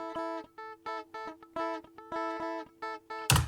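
A dry electric guitar part with no effects, playing short choppy chords in a steady groove, clean and close, ending with a brief burst of noise.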